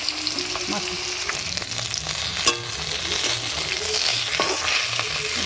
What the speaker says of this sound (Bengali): এখানে ডিম ভেজে নিচ্ছি, এখানে ডিম ভাজা, আর এখানে হচ্ছে মাছ ভাজা।